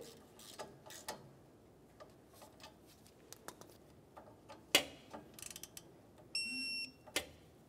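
A ratchet and torque wrench tighten the AC condenser bracket bolt on a 2006-2011 Honda Civic, giving scattered close mechanical clicks and ticks, then a short steady tone, another sharp click and no speech.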